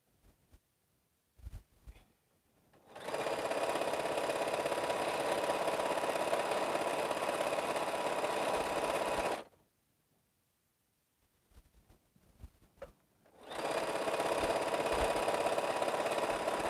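A sewing machine sews quilt pieces in two long, even runs of steady mechanical whirring, each lasting several seconds, separated by a quiet gap with faint handling clicks.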